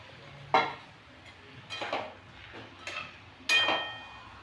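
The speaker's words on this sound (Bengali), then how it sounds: "এবার ভালো করে আমি কষিয়ে নেব।" Marinated chicken stir-fried with spices in a pan, a few separate spoon scrapes and clatters against the metal over a faint low background, with no talking.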